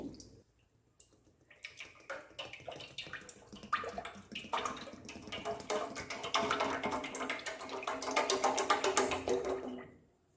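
Pure, unadulterated cold-pressed coconut oil, a full litre, poured into a pot for making curry leaf hair oil; a steady liquid pour that builds gradually and grows louder toward the end, with no talking.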